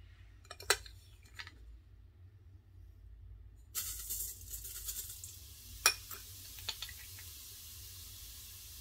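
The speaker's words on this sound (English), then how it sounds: "You can hear the sizzle," Cumin seeds, two tablespoons, sizzling in a hot pan for Indian lentils: a quiet start with a couple of sharp ticks, then a broad steady hiss with crackles and pops, faint and close.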